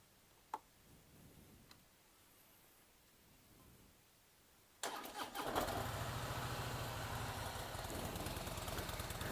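After a few quiet clicks, the 2016 Harley-Davidson Softail Slim motorcycle engine cranks and fires, then settles into a steady, loud, throbbing idle close by.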